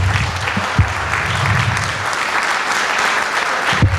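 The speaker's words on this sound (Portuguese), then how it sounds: "Você pode aplaudir ao Senhor?" A church congregation claps together in sustained applause after worship, a dense even patter with a few low thumps and murmured voices, close and steady for several seconds.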